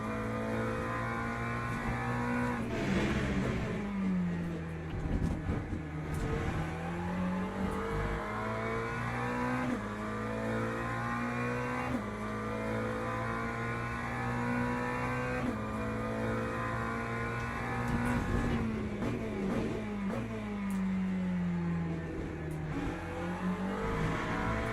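A racing car engine in the video game Le Mans Ultimate whines continuously during an online multiclass race, its pitch rising and falling through repeated gear shifts and braking, loud and steady throughout without voices.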